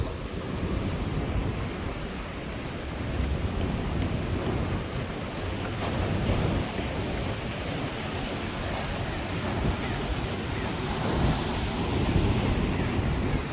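Sea waves washing against a harbor breakwater at Ingu port, with steady wind buffeting the microphone; a continuous, moderately loud roar of surf and gusts with no voices.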